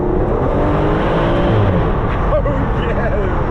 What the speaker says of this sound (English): the sound of that exhaust. It almost sounds like an F1.